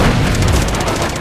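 A loud, continuous rumbling boom from an RPG explosion in the video game Uncharted 2: Among Thieves fills the short moment, dense and low with no distinct onset, as if already mid-blast.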